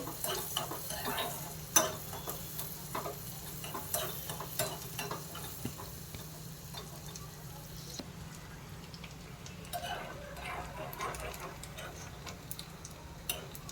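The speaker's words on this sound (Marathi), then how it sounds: "कांदा घालू, व्यवस्थित परतून द्या" Chopped onion with garlic sautéing in Amul butter for pav bhaji, a soft steady sizzle under repeated light scraping and clicking of a spoon stirring against the pan, close and fairly quiet throughout.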